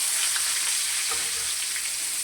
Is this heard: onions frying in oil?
yes